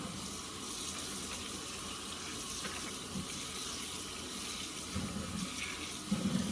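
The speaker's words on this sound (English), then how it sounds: "scrub it with the water, gives it a little more effect" Water runs from a tap while a pair of Nike Court Vision sneakers is rinsed and scrubbed. The flow is a faint, steady stream, with a few louder splashing bursts of scrubbing near the end.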